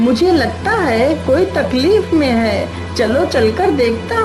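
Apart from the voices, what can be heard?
No distinct noise like a dog, phone or traffic.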